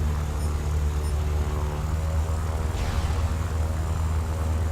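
A P-39 Airacobra in War Thunder drones with a steady, loud propeller engine hum, holding a constant low rumble throughout, with a brief whooshing sweep near the middle as the plane maneuvers.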